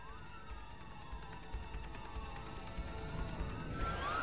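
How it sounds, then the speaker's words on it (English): Police sirens in the video game A Way Out, several wailing tones sweeping up and down together, rising slightly in loudness as they approach, heard alone without talk. "Police sirens."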